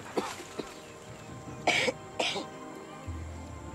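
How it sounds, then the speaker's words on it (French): Several people cough during a medical check, producing a few short harsh bursts spaced apart over faint background sounds and a low hum. "Toussez."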